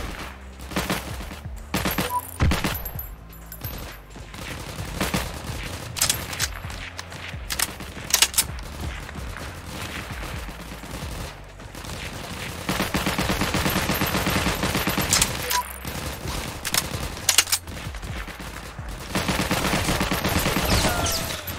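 Sustained automatic gunfire from a WWII-era shooter game, Heroes & Generals, with dense rapid bursts and overlapping shots rattling almost continuously, growing heavier and louder in the second half.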